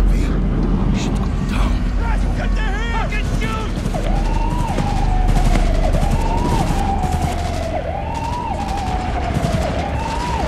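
Dense gunfire bursts fill a firefight in the Cyberpunk 2077 video game, with sustained shots under a wailing siren and shouting voices over a busy mix of game noise.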